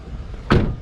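A BMW X5 E70 with a 4.8-litre V8 has its hood shut outdoors: a single solid thump of the panel closing, brief and close, over light background noise.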